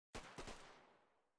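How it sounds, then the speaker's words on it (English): Gunfire in the survival game Cataclysm DDA: a loud, close shot bursts out suddenly, with a second sharp report about a quarter second later. Its echo tails off over roughly a second, and nobody speaks. "I heard gunfire."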